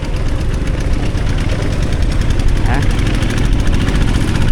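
A tractor engine runs loud and steady from start to finish, a dense rumbling drone with no breaks, heard in a rural village in southern Laos.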